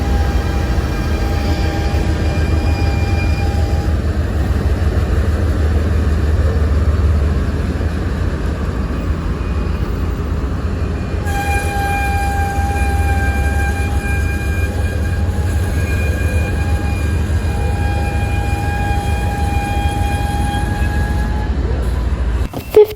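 A BNSF freight train led by two locomotives, with distributed power units at the rear, rolls past near Whitefish, Montana at about 35 mph, giving a loud, steady rumble with wheel squeal and tonal whines throughout and no talk.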